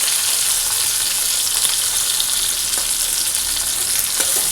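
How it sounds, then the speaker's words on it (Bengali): Squash slices fry in hot oil in a pan, a steady bright sizzle with occasional crackles and soft stirring, close up and with no talking. "আর কোয়াশ ভেজে নেব"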